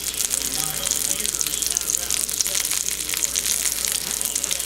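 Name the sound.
ranch parmesan chicken breast browning in pan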